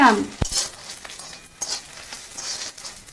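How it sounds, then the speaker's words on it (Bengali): Chopped onion and tomato frying in oil in a pan, a soft crackling sizzle with occasional stirring clatter, a brief voice at the very start. "পেঁয়াজটা একটু ভাজা ভাজা, একটু লাল লাল করে ভেজে নেব।"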